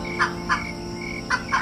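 Cartoon chickens cluck at night in four short, sharp calls, two close together early and two near the end, fairly loud over a quiet background.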